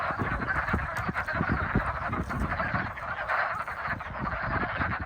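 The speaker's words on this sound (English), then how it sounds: "They sure are noisy." A dense chorus of hundreds of frogs croaking continuously from a pond at Oregon Ridge Nature Center in mid-February, many overlapping calls forming a loud, steady clamor.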